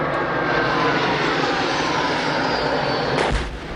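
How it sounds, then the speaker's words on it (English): Military jet aircraft roar overhead above Kachin state near the Chinese border, a loud, sustained broadband engine rumble filling the whole stretch before dropping off abruptly at the end. "these pictures clearly show jet planes being used against fighters from the Kachin Independence Army"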